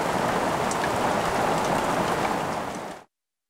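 Heavy rain pours steadily across an outdoor scene in the wild, a dense and loud hiss of drops on the ground that cuts off abruptly near the end.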